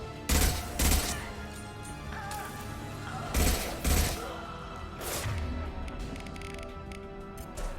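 Rifle fire in the video game Mass Effect 2 comes as two pairs of heavy, thumping shots over a steady mechanical game background, with a softer burst later on.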